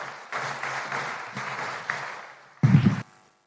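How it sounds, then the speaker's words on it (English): An audience at KICC applauds the President of Kenya's entrance at a performance contracting report event, a moderate spread of clapping that thins out, then a brief loud thump before near silence. "help me to usher in, with clapping, the President of the Republic of Kenya, Dr. William Ruto"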